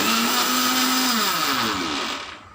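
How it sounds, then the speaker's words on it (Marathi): A mixer grinder whirs steadily as it grinds dried ginger into powder, a loud continuous motor drone that winds down and fades toward the end. "हे अजून आपण 2 ते 3 मिनिटासाठी फिरवून घेऊया."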